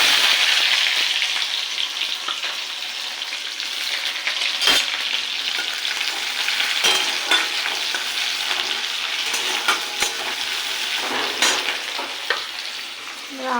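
Onions sizzle loudly in hot oil in a wok with five-spice tempering, a steady close frying hiss with occasional stirring scrapes and crackles, no talking.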